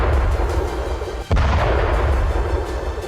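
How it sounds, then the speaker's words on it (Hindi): An Indian Army 155 mm howitzer fires, a sudden heavy boom cutting through a loud, continuous low roar of blast and rumble. "धमाका 155 mm कैलिबर की तोप का है।"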